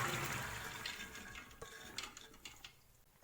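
Soaking water drained off chickpeas in a home kitchen, a soft trickling pour fading out, followed by a few light clinks and knocks of a vessel, faint and close with no voices.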